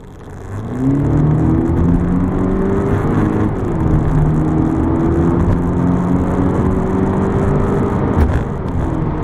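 An Audi A1 Sportback 30 TFSI engine in sport mode hums steadily and revs up in rising, falling pulls, loud and close, with no talking.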